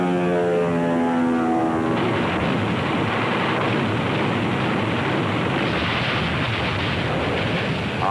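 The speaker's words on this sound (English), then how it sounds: "For 5 days, Nazi planes batter the invasion fleet." German military aircraft attack the invasion fleet at Salerno: a loud, continuous roar of engines and explosions that swells and holds steady, with a tonal drone at the start giving way to dense rumbling noise.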